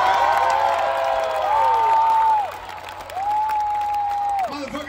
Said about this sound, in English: Everybody, give a big fucking warm round of applause